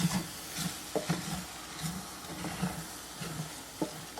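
Cooked breakfast quinoa stirred and scraped off the bottom of a pot, with a soft sizzle under repeated scraping strokes at an uneven rhythm, close and moderately quiet.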